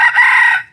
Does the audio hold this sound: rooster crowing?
yes